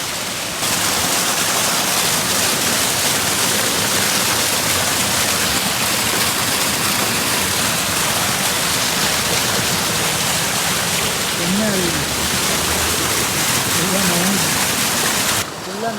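Water flows on a hillside road viewpoint near Negombo, a steady loud broadband roar like a stream or small waterfall filling the whole stretch, with faint voices briefly rising above it.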